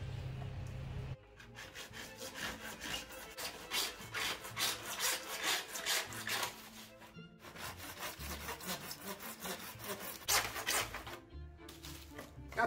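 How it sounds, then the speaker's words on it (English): A good old-fashioned hacksaw cuts through a vertical mast piece for a DIY pirate ship, quick steady rasping strokes repeating in close, regular rhythm with short pauses between bursts. "I got just a good old-fashioned hacksaw."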